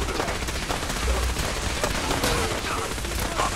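Dense, continuous gunfire from a Fallout 4 battle at Bunker Hill, with overlapping automatic bursts and single shots rattling throughout at moderate loudness, some faint voices mixed in.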